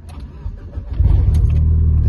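A 400bhp Ford Escort RS Cosworth is cranked for a moment before its engine catches and settles into a loud, rumbling idle close by.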